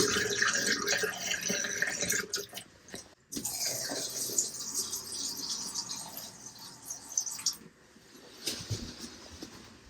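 Antifreeze is poured into an RV sink drain, making a close, splashing, gurgling flow of liquid that thins out and drips toward the end, with no talking.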